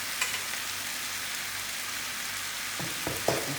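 Fresh oyster mushrooms frying in a pan give a soft, even, crackling sizzle, close and moderate in level, with a few light taps of a utensil near the end and no talking.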